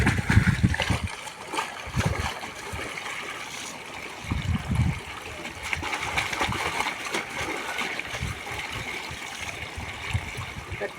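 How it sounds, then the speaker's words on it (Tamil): Leafy greens, including amaranth, are rinsed by hand in running water on a farm, making splashy sloshes and trickles that come in uneven bursts, with stronger splashing surges near the start and midway. "எல்லா கீரையும் அலசி தான் கொடுக்கணுங்க"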